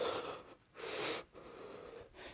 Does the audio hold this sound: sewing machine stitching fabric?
no